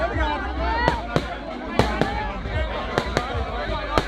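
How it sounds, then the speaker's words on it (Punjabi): Firecrackers going off outside a jail, a string of sharp, loud cracks at irregular intervals, several in quick succession, over a background of crowd noise and chatter. "ਤੁਸੀਂ ਦੇਖ ਸਕਦੇ ਹੋ ਪਟਾਕੇ ਚਲਾਏ ਜਾ ਰਹੇ ਨੇ।"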